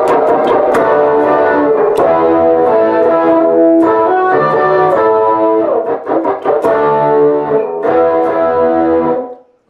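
Distorted electric guitar plays the chugging outro rhythm, loud and close with driving strummed chords and brief breaks before the final chord cuts off, with no talking.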